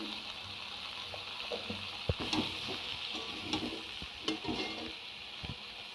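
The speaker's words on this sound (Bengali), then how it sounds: "একটু ভেজে নিয়েছি, তারপর ঝিঙেটা দিয়েছি" Ridge gourd sizzles and fries in a pan after potatoes, a continuous close hiss broken by several sharp spatula scrapes and stirring knocks, with no voices.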